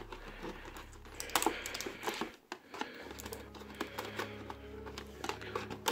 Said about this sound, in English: Let's take the tape off here.